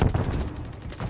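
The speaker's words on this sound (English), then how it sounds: "Taking fire over here!" Rapid gunfire from the video game Call of Duty Modern Warfare 3, dense overlapping shots with heavy low thuds that run loud and continuous through the whole burst.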